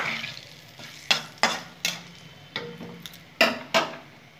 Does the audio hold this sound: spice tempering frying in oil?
yes